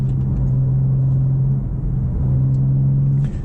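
A BMW M4 CSL engine rumbles at steady low revs while driving, a deep, even drone heard from inside the car, briefly dipping then resuming, with no talking.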